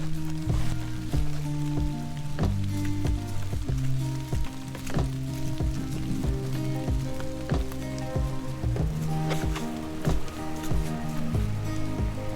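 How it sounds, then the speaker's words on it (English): Heavy rain pelts a kayak and the surrounding water on Algonquin's Big Trout Loop, a dense, continuous patter with sharper drops ticking close by throughout. "the rain's really picking up"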